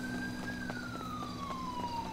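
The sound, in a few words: police car siren in GTA V video game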